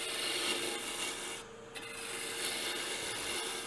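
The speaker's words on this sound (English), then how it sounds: "So I'm going to lower my handle and do a pull cut here and just clean this off." Steady, close scraping hiss of a gouge taking a pull cut on spinning wood while turning a Christmas ornament on a lathe, continuous with a brief dip partway through, no talking.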